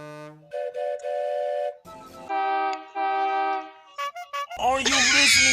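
Animated Thomas & Friends engine whistles, several sustained tonal toots of varying pitch in a steady sequence, loud and close, ending with a brighter chirping whistle burst.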